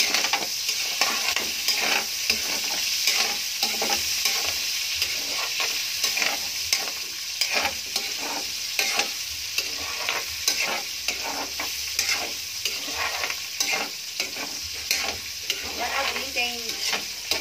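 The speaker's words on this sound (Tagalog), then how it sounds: "Sasambutan na natin yung ating karne." Meat stirred and sizzling in a pan for adobong sitaw, a steady close frying hiss broken by repeated scraping stirs throughout, with no talk.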